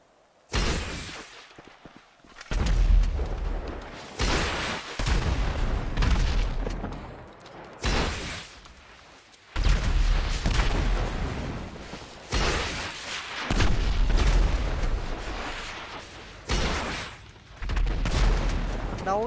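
Gunfire and booming rocket explosions from GTA 5, arriving in loud, dense bursts several seconds long separated by short quieter gaps, close and heavy.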